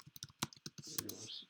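Typing on a computer keyboard: a quick, uneven run of light, close key clicks, faint overall, with a brief soft rustle near the end.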